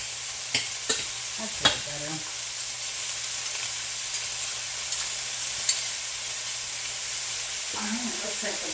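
Pork and chopped onion sizzle steadily in a frying pan, a constant broadband hiss with occasional sharp clicks and pops from the fat and a faint low hum underneath; a voice speaks briefly near the end.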